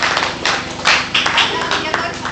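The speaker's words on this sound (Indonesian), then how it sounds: "Oke, tepuk tangan boleh" Audience at a conservation dialogue event claps in a short burst, scattered hand claps rising and falling over a couple of seconds with a voice talking beneath.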